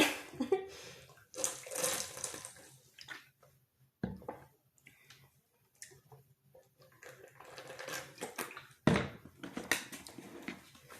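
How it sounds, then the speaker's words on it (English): Water pours for drinking in uneven splashing runs with drips and brief pauses. One longer stream comes near the end. The sound is close and fairly clear, with no talking. "Let me get some more water."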